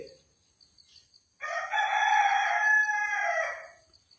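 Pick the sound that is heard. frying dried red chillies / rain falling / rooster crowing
rooster crowing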